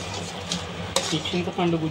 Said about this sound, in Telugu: మనము వేసిన చింతపండు వేడి నీళ్ళలో బాగా మెల్ట్ అయ్యి ఈ విధంగా చిక్కగా అవుతూ ఉంది